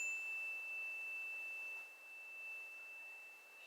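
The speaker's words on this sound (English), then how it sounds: "I hit my solar plexus bell" A single clear bell tone rings out and slowly fades, sustained and pure against near silence.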